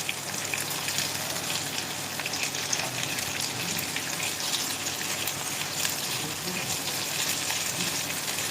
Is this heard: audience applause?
no